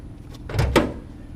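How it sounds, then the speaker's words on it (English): Steel cargo doors of a shipping container swing shut with a couple of close, solid metallic thuds and clanks in quick succession, no talking. "when you close the cargo doors"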